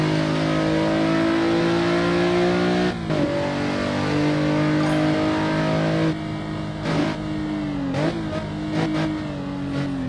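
A race car engine in the Assetto Corsa driving simulator holds a loud, steady high rev, with brief dips and sharp shifts as it drops and climbs again, close and unbroken by talk.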